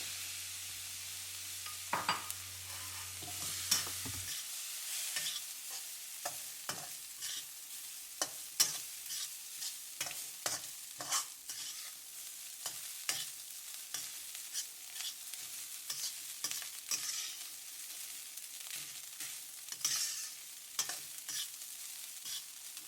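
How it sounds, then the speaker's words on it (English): Fried rice with soy sauce and white pepper is stirred in a wok over a soft, steady sizzle. Close, irregular scrapes and taps of the spatula repeat throughout, and no one speaks. "give it a quick stir and add in the rice"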